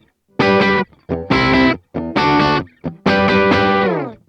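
Four distorted electric guitar chords strummed and held in turn, each cut off sharply, with brief muted scratches between them.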